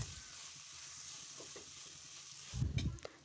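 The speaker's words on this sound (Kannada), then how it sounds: "ಹಾಕ್ಕೊಂಡು ಚೆನ್ನಾಗಿ ಹಸಿ ವಾಸನೆ ಹೋಗೋ ತನಕ ಇದನ್ನು ಫ್ರೈ ಮಾಡ್ಕೊಳ್ತಿದ್ದೀನಿ" Chili powder, garam masala and ginger-garlic paste fry in a pan, giving a soft steady sizzle with a burst of louder stirring and scraping near the end.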